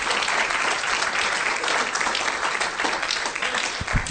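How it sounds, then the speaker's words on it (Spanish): Church congregation applause during a sermon, a loud, steady wash of many hands clapping together for several seconds. "Dele ese fuerte aplauso ahora sí al Señor."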